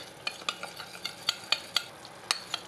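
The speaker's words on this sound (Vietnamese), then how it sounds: "Quậy lên." Cornstarch sauce stirred in a pan, with a utensil scraping and tapping against the pan in quick irregular strokes, close and clear over a faint simmer.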